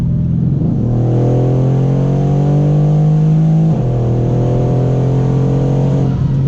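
A 1200 hp Mercedes C63 AMG Black Series accelerates hard on the road, its engine droning loud and close, with rising pitch through the gears and a clear shift midway.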